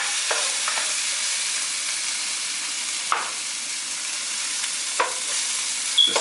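Onions and mushrooms fry in a pan with a steady, bright hiss, broken by a few louder stirring scrapes now and then.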